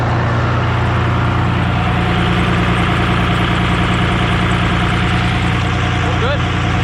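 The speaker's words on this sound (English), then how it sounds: "ignore the idling truck in the background" A Cummins diesel truck engine at steady idle, a continuous low rumble with mid-range clatter holding evenly throughout, fairly loud and close, with faint voices in the background.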